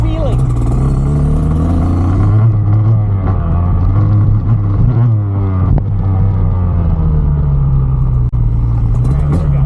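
Dirt bike engine droning steadily and loudly throughout, with a few small throttle swells while a rider gets ready to pull a wheelie; speech is heard over the engine.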